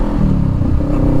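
A motorcycle rolling along in second gear gives a steady, loud, low engine drone with a rough, pulsing texture, close up and continuous for the whole moment, with no voices over it.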